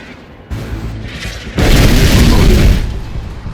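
Artillery bombardment in C&C3: Kane's Wrath, rumbling booms building into a loud, sustained barrage of explosions over battle noise, with in-game unit voices.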